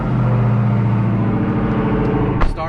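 A Dodge Durango SRT Trackhawk engine runs with a steady low rumble, then a sharp burst of noise near the end as it revs or cuts.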